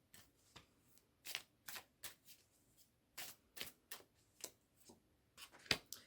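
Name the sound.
tarot cards being shuffled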